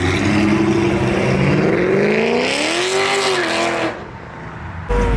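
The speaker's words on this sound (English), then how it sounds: "That's a twin turbo V6 Mustang." A modified twin turbo V6 Mustang pulls away from a car meet, its engine loud and revving hard with rising pitch through the gears, then fading before another burst.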